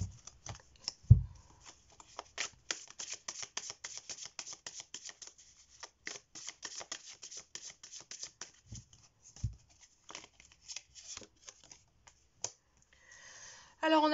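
Tarot cards being shuffled by hand, a run of quick close riffling clicks and soft flicks with short pauses, mostly without talk.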